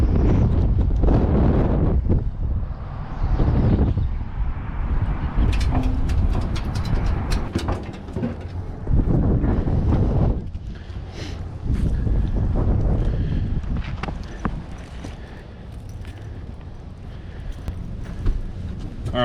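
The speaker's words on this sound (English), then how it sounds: "It's definitely windy still." Strong wind gusts over water at Oak Harbor, Jacksonville, roar and buffet the microphone outdoors, rising and falling in long surges with faint splashing and light clatter beneath.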